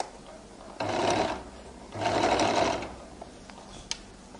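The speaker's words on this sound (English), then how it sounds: "I now begin to stitch" Two short runs of a sewing machine sewing a flared skirt seam, each a loud, close whirring burst, separated by a pause, with a faint click afterward.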